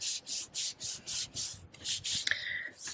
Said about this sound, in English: I'm going to turn this over and I'm going to give it a rub